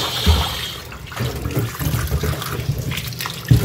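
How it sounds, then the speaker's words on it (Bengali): Dirty potatoes being washed in water at home, with sloshing, splashing and running water, close and fairly loud, a couple of heavier splashes standing out. "চলো আলুগুলো ভালো করে ধুয়ে নিই"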